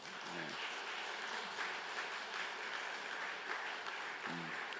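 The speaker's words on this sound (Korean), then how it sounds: "우리 박수로 환영해 주시기 바랍니다" A church congregation at a Sunday morning service claps steadily to welcome a young engaged couple to the front, a dense, even round of applause lasting several seconds with a faint voice briefly underneath.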